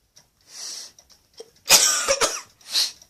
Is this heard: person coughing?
yes